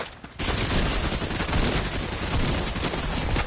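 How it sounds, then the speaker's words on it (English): Gunfire in the Fortnite video game: a sudden, dense burst of rapid shots starts after a short quiet moment, then continues as a loud, sustained crackling barrage. "So I just saw another one shooting somewhere."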